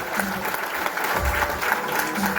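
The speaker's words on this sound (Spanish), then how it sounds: "Y a palmas, hermanos, al Señor." A church congregation claps steadily together during a Spanish-language worship service, a dense continuous wash of hand claps with a voice faintly beneath.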